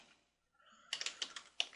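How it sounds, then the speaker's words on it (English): Fingers type on a computer keyboard in a quick, uneven run of close, crisp key clicks after a brief quiet pause, with no talking. "I can't type sideways."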